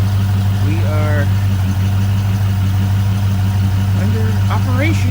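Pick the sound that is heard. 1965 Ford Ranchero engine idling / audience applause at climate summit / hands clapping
1965 Ford Ranchero engine idling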